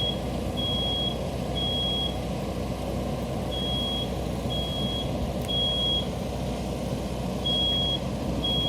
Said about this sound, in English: 21 seconds, the smoke detector's activated.